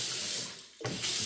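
Water runs steadily from a kitchen tap during washing-up with Gain detergent, briefly thinning to a quieter trickle before gushing strongly again, close and alone.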